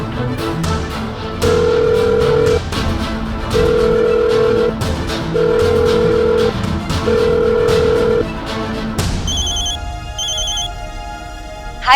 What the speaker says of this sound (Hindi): मैं वनीता को ही कॉल करके पूछ लेती हूँ।